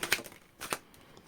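A deck of tarot cards is shuffled in two quick, crisp riffling bursts, close and clear, with no voice over it.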